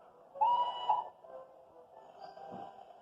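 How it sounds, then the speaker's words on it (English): A steam engine whistle blows, a tonal hoot that swells then fades, followed by a softer, lower whistle tone. "and the engine whistles back."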